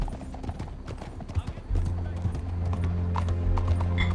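Horse hooves clip-clop in Red Dead RP, a Wild West role-play game, with a steady run of hoof strikes under a low rumbling game ambience and a brief voice or whinny near the end.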